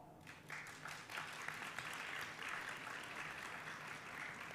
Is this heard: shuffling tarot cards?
no